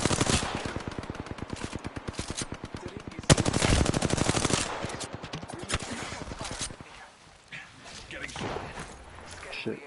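Rapid automatic gunfire in the shooter game Apex Legends, a long loud burst of evenly spaced shots followed by scattered single bursts and game effects, with players talking over the action.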